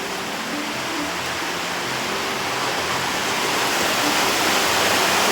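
Heavy rain pours steadily in a dense, continuous hiss that fills the scene during a monsoon day in a Kerala village, loud and even with no voices.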